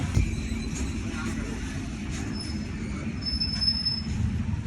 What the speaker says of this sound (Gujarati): તો ટ્રેન આપણી ઓન ટાઈમ 9:06 વિરંગામ જંકશનથી ડિપાર્ટ થઈ ગઈ છે અમદાવાદ જવા રવાના.